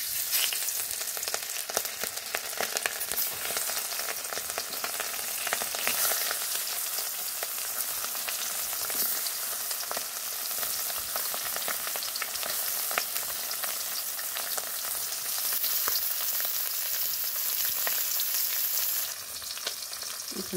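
Small hilsa fish frying in oil in a village kitchen, with a dense, steady crackling sizzle that carries on without a break, close and alone with no talk.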